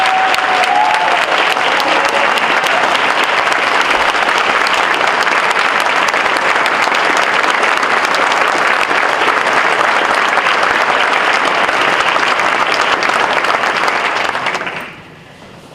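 An audience at a county board of education meeting applauds teachers of the year with loud, sustained, dense clapping, holding steady throughout before cutting off abruptly near the end.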